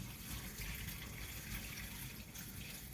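Bean sprouts being washed under a running kitchen tap, a steady, fairly quiet gush of water splashing continuously without talk.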